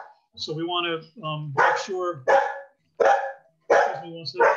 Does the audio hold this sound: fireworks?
no